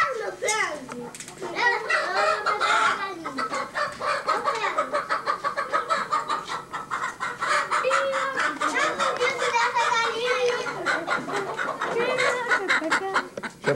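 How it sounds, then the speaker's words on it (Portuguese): Chickens cluck and a rooster calls throughout a lively family gathering in Rio de Janeiro in the 1980s, the bird sounds mixed with children's voices and loud, overlapping talk. "Pega tua galinha lá, Andinho, teu franguinho."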